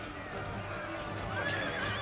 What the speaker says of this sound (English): So we're gonna watch this mayhem up close for as long as the cavalry's engaged here.